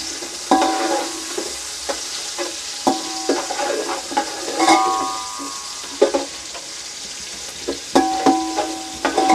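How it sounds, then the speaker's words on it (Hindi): Onions frying in a pan toward light brown: a steady close sizzle broken by repeated spatula scrapes and clinks against the metal at an uneven rhythm, no talking. "ये हल्की ब्राउन करेंगे प्याज को, ज़्यादा ब्राउन नहीं करेंगे"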